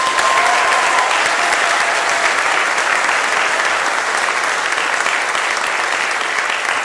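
A dense, sustained wash of applause fills a high school auditorium, holding steady for the whole stretch without any voices breaking through.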